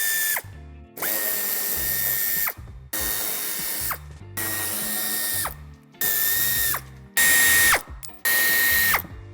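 A power drill loosens screws on the wheel arch of a Volkswagen Passat Alltrack B8, with repeated loud whirring bursts, each about a second long and separated by short pauses, nearby and with no talking.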